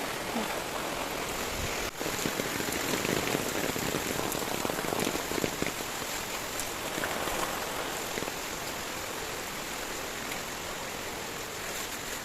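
Heavy rain pours steadily onto surfaces, a dense continuous hiss with spattering drops, loud and close throughout with no voices.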